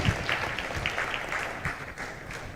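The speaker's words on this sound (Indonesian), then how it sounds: "mohon sekali lagi untuk tepuk tangan yang meriah kepada para pembicara malam ini" Applause rises from a conference audience honoring the evening's speakers at an international conference on religious moderation, a steady patter of many hands clapping at moderate volume from across the room.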